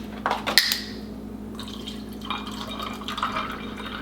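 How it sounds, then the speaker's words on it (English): Milk pours briefly into a glass near the start, splashing, followed by quieter trickling and light clinks against a low steady hum. "From here, you're gonna pour milk."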